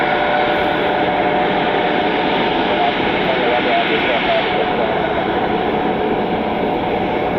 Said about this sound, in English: Freedom 1 taxiing over to 28 left for departure.